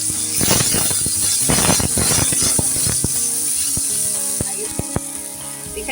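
Dried red chillies, fennel seeds and ginger sizzling and spitting in hot oil for a Bengali biulir dal, a steady loud fry with scattered crackling pops throughout, no voices.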